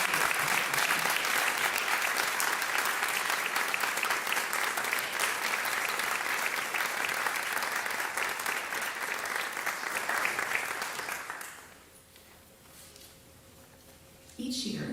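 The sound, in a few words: audience applause at convocation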